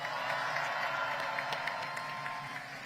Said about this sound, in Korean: 우리 김상우 위원장 더 힘내라고 박수 부탁드립니다.